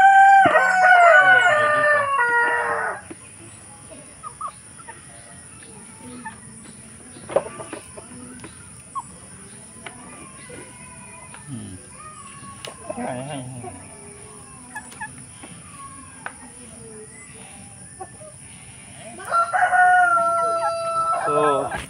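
Roosters and hens on a provincial farm crow and cluck, with loud bursts at the start and end and scattered calls, clucks and a voice in between.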